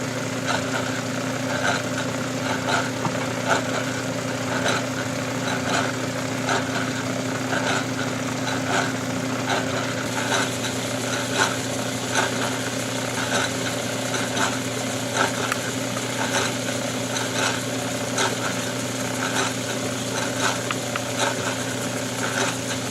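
A machine takes a skim cut on steel box tubing for a welded airframe rotator frame, giving a steady, continuous mechanical drone with a constant hum and faint rhythmic ticks, moderately loud and alone for the whole stretch.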